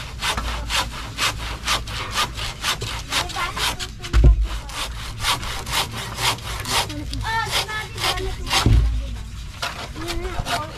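A freshly sharpened hand saw cutting through wood, with steady rasping back-and-forth strokes in quick rhythm, close and loud, with a couple of dull knocks as the piece shifts.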